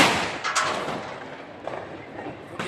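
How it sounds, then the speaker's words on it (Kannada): Firecrackers bursting outdoors on a festival day: a few sharp, moderately loud cracks and thuds spaced irregularly over steady background noise. "ಪಟಾಕಿ ಹೊಡೆದು"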